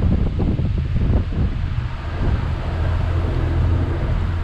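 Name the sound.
strong wind over water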